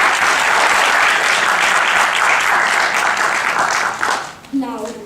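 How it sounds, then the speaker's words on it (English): Sustained applause from a large audience at an award event fills the room, then tapers off as a voice begins speaking near the end. "Can we have a great round of applause"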